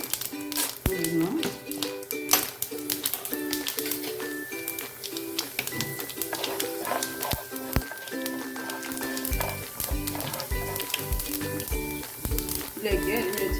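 Green chillies and onions fry in hot oil with mustard seeds for a Kerala tempering, crackling and popping sharply in quick bursts, close up, with a voice talking over it.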